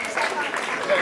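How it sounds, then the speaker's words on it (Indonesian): A crowd at a school breaks into applause and cheering to welcome Indonesia's sports minister, a dense wash of clapping mixed with voices. "boleh berikan tepuk tangan sekali dan sambutan yang paling luar biasa untuk Bapak Menpora kita"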